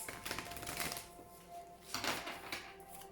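A tarot deck being shuffled by hand gives dry papery riffles and taps in two bursts, the second louder, with a steady faint tone running underneath and no talking.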